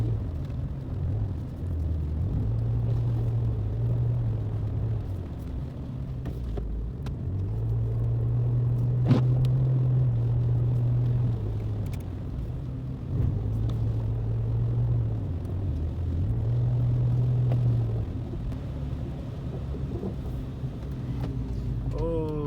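A car climbing a gravel mountain road gives a steady, close engine rumble with low droning swells and rolling road noise throughout, and a voice talks over it.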